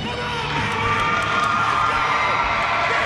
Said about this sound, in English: This crowd's going crazy for the Madness.